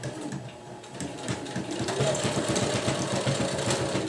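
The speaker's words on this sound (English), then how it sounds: "we'll put our foot down right on the edge, and we shall sew" A domestic sewing machine runs steadily as it stitches along the folded edge of hammock fabric, a close, continuous mechanical whir with rapid needle clatter that grows slightly louder after the first couple of seconds.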